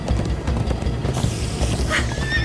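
A horse gallops in Minecraft Story Mode with rapid, rhythmic, close hoofbeats throughout, and a brief whinny-like tone near the end.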